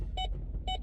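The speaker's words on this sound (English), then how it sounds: "Backup beeper's going" Two electronic pulses from a vehicle backup beeper sound about half a second apart, moderately loud over low engine rumble.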